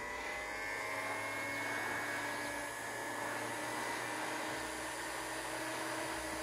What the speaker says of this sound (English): let's give it a little heat with the heat gun